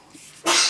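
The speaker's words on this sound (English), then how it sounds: "My husband's sneezing." A single sharp sneeze bursts out after a moment of quiet room noise, close and fairly loud.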